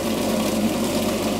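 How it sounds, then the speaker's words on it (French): A kitchen food processor grinds three fish in a restaurant kitchen, giving a loud, steady motor whir that holds constant throughout with no pauses. "On va les mettre dans le mixeur."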